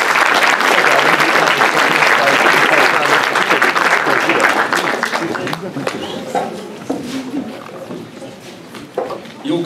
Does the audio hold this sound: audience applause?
yes